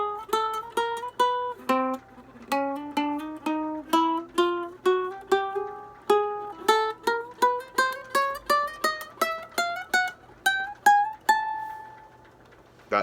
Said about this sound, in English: That again was every note on a ukulele.